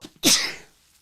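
A single sharp sneeze close by, with a short breathy intake just before and a quick fading tail.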